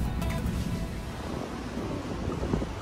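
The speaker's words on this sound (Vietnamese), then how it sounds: "Hôm nay gió khá là to." Strong outdoor wind buffets the microphone with a steady, loud broadband roar and low rumble throughout, with no voices.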